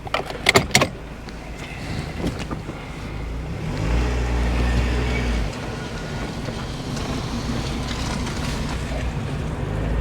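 A small Mazda Miata convertible's engine hums steadily at close range, rising briefly, after a few sharp clicks and door-like clunks at the start.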